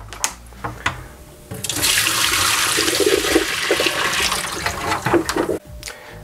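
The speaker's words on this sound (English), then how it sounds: "to get it all mixed up and pour it down the drain" Home wine kit sediment and liquid pour down a drain in a sustained gushing rush of water that builds after a few small splashes and drops off abruptly near the end, close and fairly loud.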